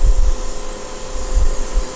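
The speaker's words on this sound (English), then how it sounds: "And you can spray this stuff on pretty thick" An airbrush sprays thick chipping fluid onto metal RC tank tracks, giving a close, steady hiss with soft low bumps, alone and brief.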